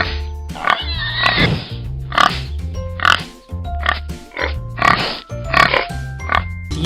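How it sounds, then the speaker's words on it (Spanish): A pig oinks and grunts in a rapid run of snorting calls, loud and close, with short pauses between bursts. "¡Cerdo! Eso, el cerdo, muy bien."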